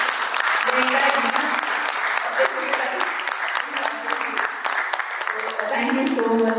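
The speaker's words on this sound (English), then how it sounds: "please give a huge round of applause for the entire" Audience applause at a World Intellectual Property Day event fills the room, a steady dense clapping that swells slightly toward the end, with voices faintly mixed in.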